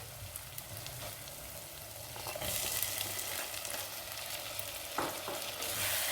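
Onion, garlic, ginger and tomato sizzle steadily in a pan while mutton liver masala cooks, with a continuous crackling hiss, occasional stirring scrapes and a brief louder burst near the end.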